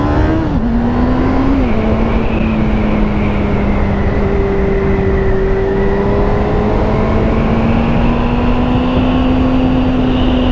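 A Honda CBR600F motorcycle engine with 102 horsepower climbs steadily through the revs on the road, its tone rising and holding as the bike accelerates, loud and continuous with wind noise and no talking.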